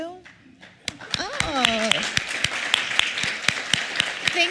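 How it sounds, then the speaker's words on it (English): Church audience applauding to welcome first-time visitors, a rapid, sustained patter of many hands starting abruptly with a few sharper claps standing out, while a person speaks briefly under the applause. "Please raise your hand and we will clap for you."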